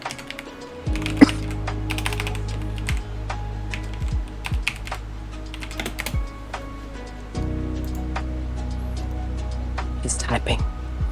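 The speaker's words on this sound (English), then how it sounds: "He's typing." Typing on a computer keyboard during an online tabletop role-playing session, with quick irregular clicks and taps over a steady hum while people talk.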